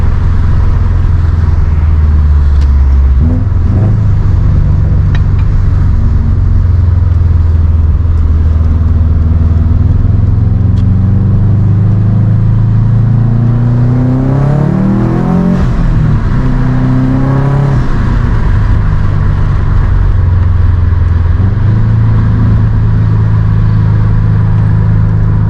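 A 2007 Subaru WRX STI heard from inside as it drives, its loud, steady engine drone rising through revving pulls and gear changes around the middle, then settling into a cruising hum, with no talk.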